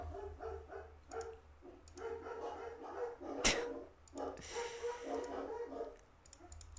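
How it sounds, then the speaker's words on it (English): Several dogs bark repeatedly and excitedly at a distance, a steady run of yips and barks with a sharp click midway, faint and without talk. "The dogs are going crazy."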